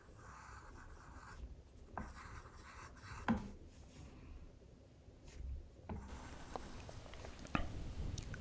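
Pencil scratching and scribbling across paper while faces are drawn, a close, quiet run of soft strokes and rubs with a few sharper taps, alone with no talking.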